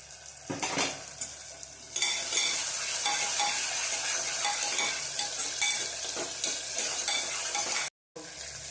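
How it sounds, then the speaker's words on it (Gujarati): Tomatoes hit hot oil in a pan with steady loud sizzling, with occasional stirring scrapes and a brief drop to silence near the end. "હવે નાખીશું આપણે ટમેટા"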